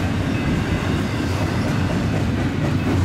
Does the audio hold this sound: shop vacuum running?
no